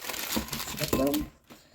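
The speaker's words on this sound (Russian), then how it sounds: "Находим такой пакетик с приправой." A plastic seasoning packet from instant noodles crinkles close by in short, sharp rustling bursts, then falls briefly quiet before a faint rustle returns.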